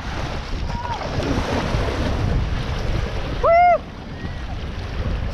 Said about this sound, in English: These are the biggest waves. Here are the really big waves.